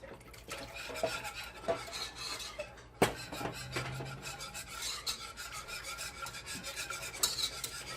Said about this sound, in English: you want to make sure to keep whisking it until it's nice and smooth